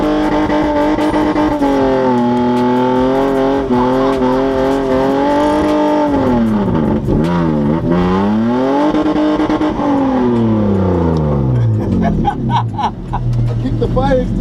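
A car spinning smoke-filled donuts in a spinning stunt event, its engine revving hard and continuously with rising and falling pitch sweeps, loud and close, with voices shouting over it.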